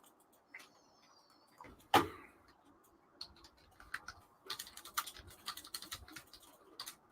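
Quiet typing on a computer keyboard in a home setting, a loud single knock early, then irregular clusters of light key clicks building up toward the end.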